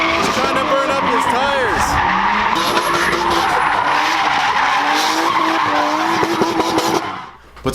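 Car tires squealing and skidding loudly during a burnout at a drift event, with engine roar and sustained screeching almost throughout, voices mixed in, fading near the end.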